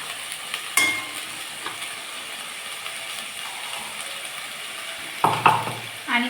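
Tomato, onion, ginger, garlic and curry leaves fry in a pan with a steady close sizzle, and a few clinks and scrapes of a utensil against the pan stand out.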